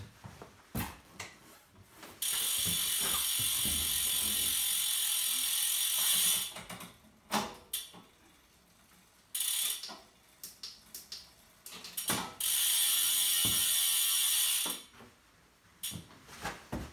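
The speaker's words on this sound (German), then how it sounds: "Ich bewege einfach mal die Di2." Shimano Di2 electronic bicycle gear shifting, two long stretches of bright, whirring motor buzz from the derailleur between clusters of small mechanical ticks and clicks, close and dry.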